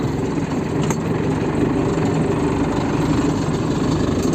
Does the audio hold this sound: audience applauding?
no